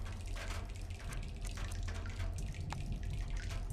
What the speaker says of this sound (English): The dribbly drips.